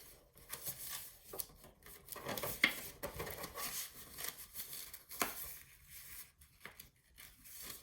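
Scrapbook paper being folded by hand for a flip book, with faint, close rustles, creases and soft taps coming in irregular bursts, no talking.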